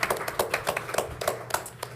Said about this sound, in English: I will ask the Atlanta audience to clap